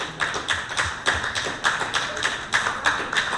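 Audience clapping at a 50th wedding anniversary celebration, a steady rhythmic round of claps at an even beat, close and fairly loud, with no talking.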